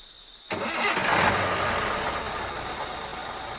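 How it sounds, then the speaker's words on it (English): A truck engine cranks and catches abruptly, then settles into a steady, fairly close idle that fades slightly toward the end, with no voices. "Joe started the engine, and the journey began."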